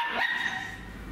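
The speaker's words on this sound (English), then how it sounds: "Noisy dog." A dog under treatment for trypanosomiasis gives a single short, sharp bark or yelp, close by, standing out briefly from a quiet room tone.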